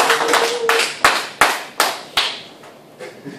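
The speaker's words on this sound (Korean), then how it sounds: "자, 박수 한번 주시고요." A small audience at a Korean social enterprise training session claps briefly, with a few loose hand claps that thin out into scattered single claps, close and distinct, with no talk over them.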